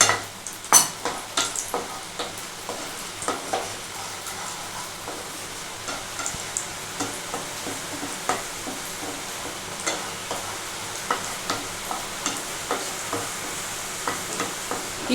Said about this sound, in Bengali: কিশমিশটা একটু নাড়াচাড়া করে দেখো ফুলে উঠলেই হয়ে যাবে